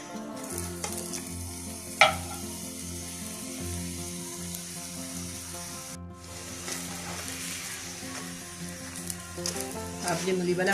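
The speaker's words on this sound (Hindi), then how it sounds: "अच्छे से फ्राई हो जाएगा तो खस्ता मज़ेदार लगेगा" Mooli (radish) paratha fries in a pan with a steady crackling sizzle that runs the full length, broken by a single sharp tap near the start, with some faint background music.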